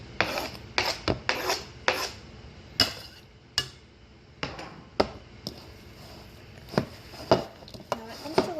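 Chopped onion tossed into a bowl of raw hamburger meat, giving a run of close, sharp clinks and soft scraping knocks against the bowl in an irregular rhythm.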